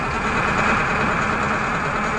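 A Tata truck's diesel engine running steadily at idle, a continuous close low rumble with no change in pitch and no voices.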